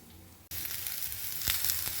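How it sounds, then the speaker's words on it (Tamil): Grated coconut and chopped ridge gourd sautéing in hot oil in a pan, a soft hiss that jumps to steady crackling sizzle as the food goes in, with small pops, no talking. "இந்த தேங்காய் கொஞ்சம் வதங்கினப்புறம் இதையும் கொஞ்சம் எண்ணெயை விட்டு வதக்கிக்க போகிறேன்."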